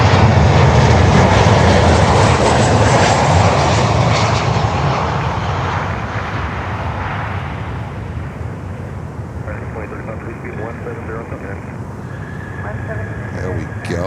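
An American Airlines Boeing 737-800 jet passes close and loud, a broad roaring engine rush that slowly fades as it moves away, with a voice speaking over the later part.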